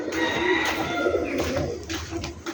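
Pigeons coo softly at feeding time as they are given a mix of dal and wheat, low throaty rolling calls repeating over a steady close background.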